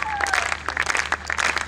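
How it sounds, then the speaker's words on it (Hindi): Applause rises from the audience at an Eid mushaira broadcast, bursts of clapping and cheering mixed with voices and brief calls, lively and fairly close. "कुछ तालियां बजाइए,"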